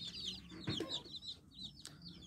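Native chicken chicks, one to three days old, peep and chirp in quick, high calls in a brooder over a low hum, with a soft cluck or two in the mix.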